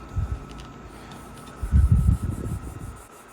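The white polishing side of a sanding stick rubs across the plastic body of an AMT 1950 Ford Convertible model car in short, soft scrubbing bursts, louder in the second half, with no talking.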